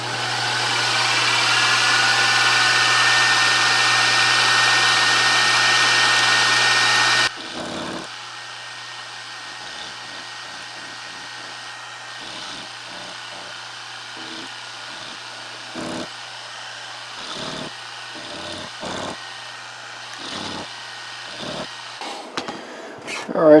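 A machine tool takes a cut off a metal open-column engine bearing block, giving a steady, fairly loud whirring hum for several seconds. It then stops abruptly, leaving a quiet room with scattered faint clicks and small handling noises.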